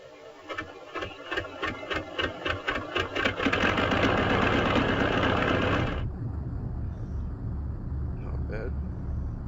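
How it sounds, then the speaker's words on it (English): Piston aircraft engines start up in the Aces High flight game, rising from sputtering, rhythmic cranking into a steady loud rumbling drone that settles into an even idle, with no talking over it. "Alright, time to start up the engines."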